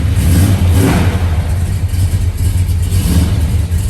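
A 1967 Chevrolet Chevelle's big-block 427 V8 revs loudly up close in neutral, its deep burbling exhaust swelling and then settling back to a heavy, lumpy rumble.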